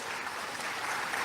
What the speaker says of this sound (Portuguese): Vamos aplaudir a Ele,